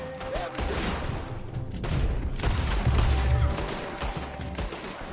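Gunfire in a Red Dead Redemption 2 shootout, with repeated overlapping shots in ragged volleys and a heavier rumbling barrage in the middle, loud and continuous throughout.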